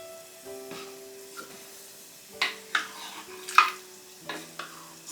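Meat and seasoning being stirred in a pot for a cocoyam hotpot, with several scraping and clinking strokes of a utensil against the pot, fairly close but quiet.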